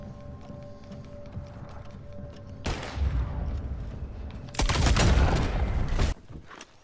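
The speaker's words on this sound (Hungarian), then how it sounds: "a fenti két kis rövid csövű shotgun szokták használni, és ezzel futnak és lövik le az ellenfeleket" Short-barrelled shotguns firing in Red Dead Redemption 2 Online, loud broadband blasts in two bursts with sustained rumbling over a low ambient hum, fading abruptly near the end.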